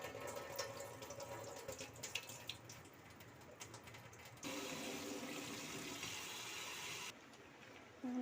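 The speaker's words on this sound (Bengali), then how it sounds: "ছাতুটাকে ধুয়ে নিচ্ছি ভালো করে।" Running water splashes and gushes steadily as straw mushrooms soaked in turmeric water are rinsed and squeezed by hand in a kitchen, the flow loud throughout with no talking.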